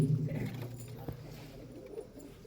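A pigeon coos low and soft at the start, a short throaty burble close by, then fades into quiet background.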